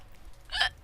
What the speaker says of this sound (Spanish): Con hipo no puedo hablar bien